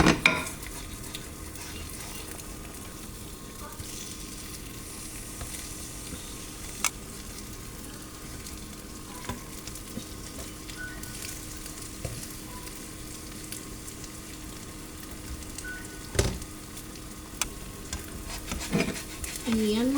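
A whole egg frying in a pan, with a continuous soft sizzle under frequent stirring and scraping, occasional utensil clinks against the pan, and a few louder knocks near the end.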